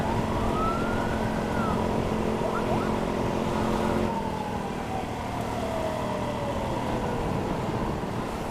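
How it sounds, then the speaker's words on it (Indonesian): A funeral ambulance siren wails on a road in Indonesia, its rising and falling tone sweeping over the steady rumble of traffic and engine noise, fairly close and continuous. "Ambulan jenazah."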